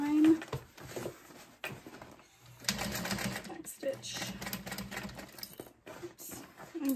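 Home sewing machine stitching through thick fleece layers and a gusset on a messenger bag, a slow back stitch over the seam; steady mechanical whirring in short runs with brief stops, fairly close, with some quiet speech at points.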